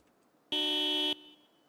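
A single loud car horn honk in the Project Zomboid video game, a flat steady tone lasting about half a second, sounding alone.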